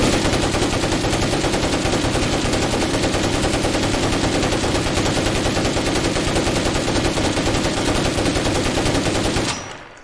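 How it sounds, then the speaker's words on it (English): Sustained full-auto gunfire from a weapon in the zombie survival game State of Decay 2, a loud unbroken stream of rapid shots for about nine seconds before cutting off abruptly. "And at full auto, you basically... You can just pull the trigger and walk away and you'll never run out of bullets."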